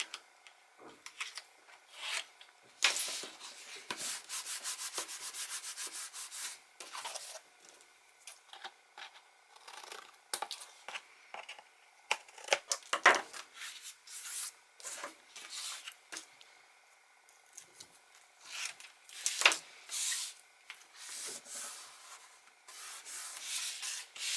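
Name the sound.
trimming extra paper on a mini album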